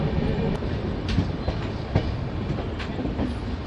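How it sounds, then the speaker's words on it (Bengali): Uttarbanga Express pulling away from Aluabari Road Junction, a close continuous rumble of rolling stock with faint rhythmic clicks of wheels over rail joints and a few sharper metallic ticks, no voices. "আলুয়াবাড়ি স্টেশন থেকে ট্রেন ছাড়লো"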